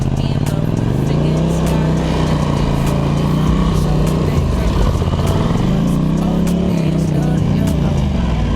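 A Polaris Scrambler ATV engine runs loud and close in deep snow, holding a steady rumbling idle whose pitch rises and falls in slow revs throughout.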